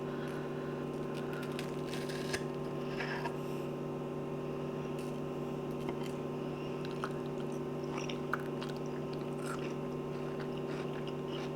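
Someone chews a bite of watermelon caprese fresh off a serving board, soft wet squishy mastication with small bites over a steady low background hum, no talking.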